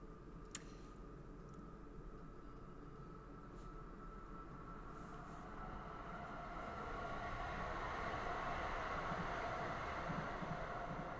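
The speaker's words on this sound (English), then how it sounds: "that's a loud train" A loud train passing outside, coming in through an open door: a heavy rumbling roar that starts moderately and swells louder toward the end, with faint clicking and rattling over it and no talk.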